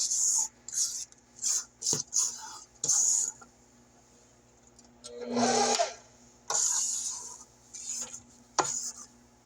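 A stand mixer creams cream cheese pecan pound cake batter at the fifth speed setting, with a low steady motor hum under intermittent scraping bursts, and a voice talks in between.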